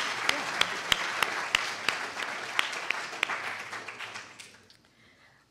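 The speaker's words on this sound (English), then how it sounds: "I think that deserves an applause" A small audience at a collegiate business venture competition claps, starting with sharp distinct claps that blend into steady applause, then thinning and fading out over a few seconds.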